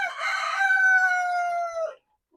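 A breeding rooster crows once, a loud, close call of about two seconds that holds a strained, steady pitch and then cuts off sharply, followed by silence.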